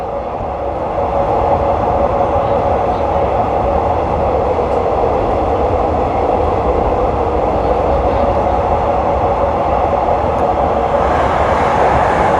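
A steady, loud rumble rolls on without a break from inside a train travelling in the evening from Don Mueang to Krung Thep Aphiwat Central station in Bangkok.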